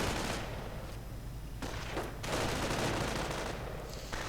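Rapid machine gun bursts fire in a World War II strategy video game, loud dense volleys broken by short pauses, with distant battle noise underneath.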